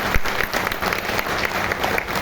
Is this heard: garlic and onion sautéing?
no